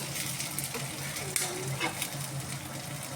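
Fish pieces frying in oil in a home kitchen, a granny's simple fish fry; steady, fairly quiet close sizzle with a single small clink, no talking.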